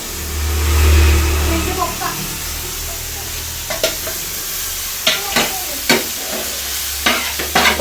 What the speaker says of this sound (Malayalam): അപ്പോൾ ചിക്കൻ പൊട്ട് മിക്സ് ഏട്ടൻ റെഡിയാക്കുന്നതാണ്